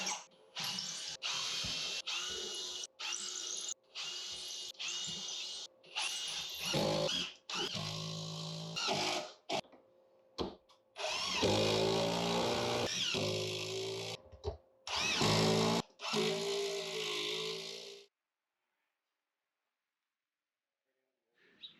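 A power drill pre-drilling holes into a wall for a shelf bracket, in repeated close, loud bursts separated by short pauses, with brief quiet gaps and a silent stretch at the end.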